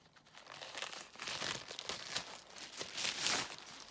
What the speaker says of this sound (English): Let's open it. I've got my scissors.